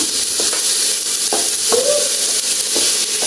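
Chopped carrot, beans, cabbage and green chilli sautéing in a pan for egg biryani, a loud continuous hiss of frying with occasional scrapes of a spoon stirring the vegetables, up close.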